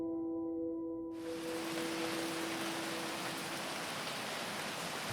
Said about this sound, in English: The rain started pouring so heavily that our tent was flooded